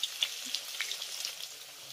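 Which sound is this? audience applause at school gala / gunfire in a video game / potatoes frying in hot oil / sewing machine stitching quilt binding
potatoes frying in hot oil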